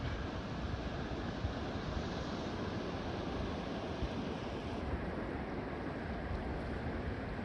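Steady, full rush of a waterfall by a suspension bridge on the Liscomb River Trail, a dense continuous roar with no breaks, close and fairly loud throughout.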